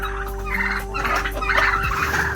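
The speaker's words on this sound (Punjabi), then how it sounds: "ਟਰਕੀ ਇੱਧਰ ਆਏ ਹੋਏ ਆ ਕਿੰਨੇ ਆ 4 ਤੇ 3 7 ਟਰਕੀ ਇੱਧਰ ਆਏ ਹੋਏ ਆ" Seven turkeys gather on a Punjab farm and gobble in a dense, overlapping chorus close by, with a constant low hum beneath the calls.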